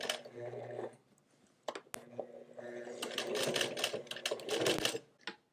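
Sewing machine running a zigzag stitch on black jeans, in several quick whirring, clattering bursts separated by pauses, with soft handling noises and faint background voice.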